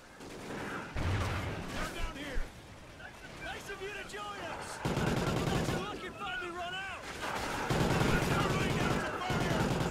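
MG42 machine gun fire in Call of Duty Ghosts, rapid bursts of automatic fire repeating over ten seconds, with a person talking over the shooting.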